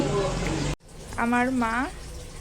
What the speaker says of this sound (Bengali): কড়াইতে বেগুন ভাজা বসিয়েও দিয়েছে